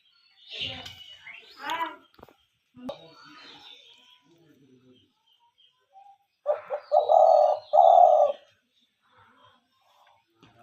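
A one-year-old hunting dove gives a short run of soft, low cooing calls near the end, after scattered chirps and people talking earlier.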